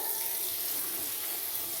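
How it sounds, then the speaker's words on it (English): Water running along the edges of a sink during a new-construction home inspection, where the countertop meets the sink. It makes a steady, even hiss of flowing water throughout, close and moderately loud, with no speech. "I introduced water to the edges of the sink"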